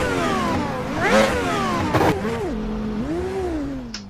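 A racing car engine in the Automobilista sim racing game revs hard, climbing and falling in pitch through several rising sweeps and gear changes, loud and up close with no talk.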